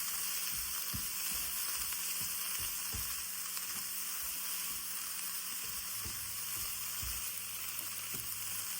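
Prawns in a sauce fry in a pan for a home-cooked lunch, giving a steady, close sizzle throughout, with occasional stirring scrapes and soft knocks and no voices.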